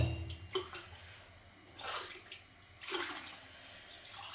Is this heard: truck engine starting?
no